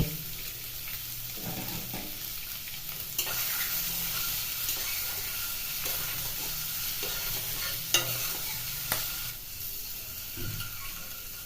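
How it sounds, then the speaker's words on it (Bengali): Eggs rubbed with salt and turmeric fry in hot mustard oil with a dense, steady sizzle, broken by stirring scrapes and a few sharp clinks against the pan, close and continuous. "নুন হলুদ মাখা ডিমগুলি এখন গরম তেলে দিয়ে দেব"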